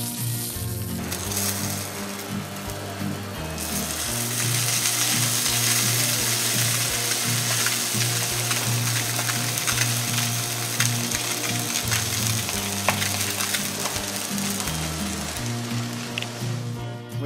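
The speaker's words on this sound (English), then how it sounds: "we can put three small coatings in the back, on the skin, for a cook very, very nice. Put on the flat grill." Fish lies skin-side down on a flat grill, a loud continuous sizzle with a steady mechanical whirring underneath, no talking.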